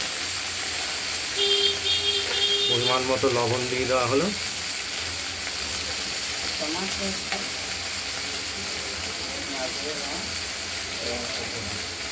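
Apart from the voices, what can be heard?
okra frying in a pan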